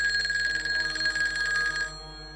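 Telephone ringing with an electronic bell tone, a steady close trill lasting nearly two seconds before cutting off to a quiet room hum, with no voices.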